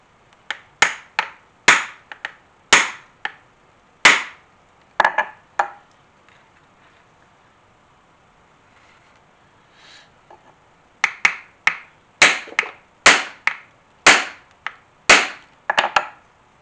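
Metal punch hammered through leather for the stitching holes of a kukri knife sheath, a run of sharp loud close strikes in bursts, then a pause and another quick series of knocks.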